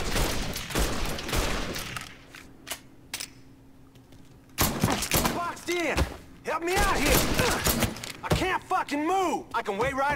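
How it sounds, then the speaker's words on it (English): Marksman rifle gunfire in Mafia III, a burst of sharp shots in the opening seconds with more bangs scattered later, mixed with in-game voices and talking. "Oh, he's got one of those marksman rifles."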